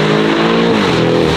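A widebody Lamborghini Urus SUV with a 780 hp power upgrade and loud aftermarket exhaust roars close by, a steady, heavy engine drone with rich harmonics filling the whole moment without any talking.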